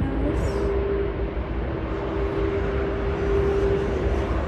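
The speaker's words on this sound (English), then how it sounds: "This is an A380 China Southern takeoff" China Southern Airbus A380 taking off at Sydney Airport, a steady broadband jet roar with a faint sustained tone, fairly loud and continuous throughout, no voices.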